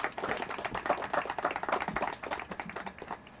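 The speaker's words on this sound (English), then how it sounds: "So give them a round of applause" An audience claps at a county celebration of a housing partnership, giving dense, even applause that holds steady for a few seconds and then thins slightly, with no voices over it.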